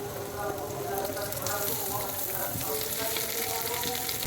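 A hilsa fish head drops into a pan of frying onions and garlic, setting off a loud, dense, continuous sizzle with steady crackling and faint tonal sounds underneath throughout.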